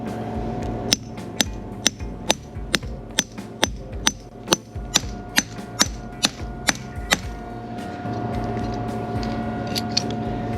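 Sharp metallic hammer blows crimping a wire terminal ring out in a steady rhythm, about fifteen strikes close by, then stop, leaving a faint background hum.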